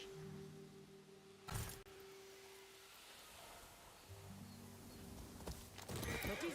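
Hooves clip-clop steadily under a low engine-like drone in the video game Ghost of Yotei, with a couple of sharp thumps and a brief whinny-like cry near the end.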